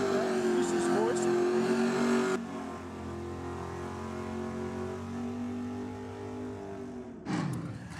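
A race car engine rumbles at a Ford versus Holden theme night on a race track, a steady droning under a voice, with a short louder burst near the end.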